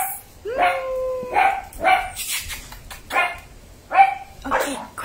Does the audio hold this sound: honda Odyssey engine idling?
no